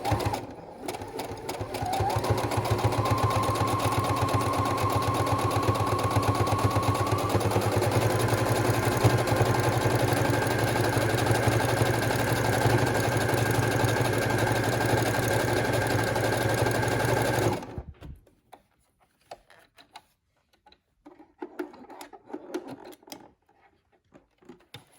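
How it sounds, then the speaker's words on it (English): A sewing machine runs a zigzag stitch through mask fabric, a loud, steady whir for about seventeen seconds before it stops, leaving quiet handling sounds. "got it set on zigzag stitch, and I'm going to move there"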